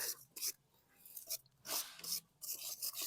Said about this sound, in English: Take my wire brush, kind of clean up the axle where it goes into the plastic